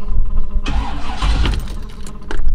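A 1951 Mercury Custom convertible with an LS1 V8 cranks with the key, catches at once and settles into a loud, close idle that keeps rumbling steadily right to the end.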